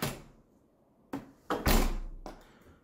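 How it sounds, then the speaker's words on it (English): A home door fitted with a eufy entry sensor is opened and closed indoors, giving a few soft thuds and one firmer knock-like close, each sharp onset fading quickly into quiet. "And open the door, it's flashing, close the door, it's flashing."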